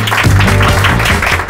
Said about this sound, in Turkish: Alkışlarınızla Deniz Göktaş ve Deniz Alıntemiz